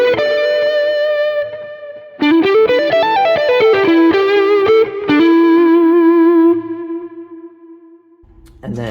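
Electric guitar played through a Quad Cortex preset with an RC boost in front, giving sustained, singing lead notes and a short melodic run with echo tails that ring out and fade.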